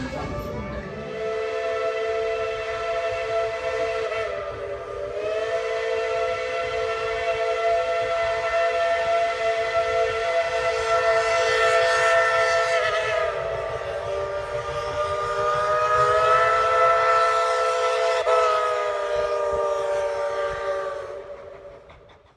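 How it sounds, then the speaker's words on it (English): Dollywood Express steam locomotive number 70 sounds its whistle in a long, loud, sustained chord that swells and shifts in pitch for over twenty seconds, with the train rumbling faintly underneath. "Pulling the train that day was locomotive number 70."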